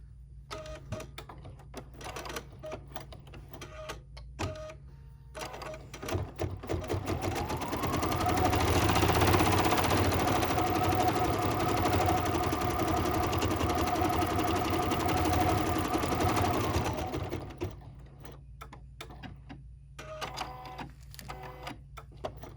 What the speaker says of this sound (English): now we put it back on the machine and stitch the rest of the design